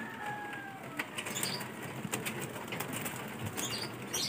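Several pigeons take off with brief bursts of flapping wings, a few scattered clusters of soft wingbeats over a steady outdoor background with no talking.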